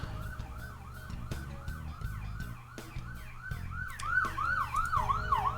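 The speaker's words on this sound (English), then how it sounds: "Sorry about the sirens." Emergency vehicle sirens wail from a hospital about a block away, rising and falling in a steady repeating cycle over a low traffic rumble, loud and continuous throughout.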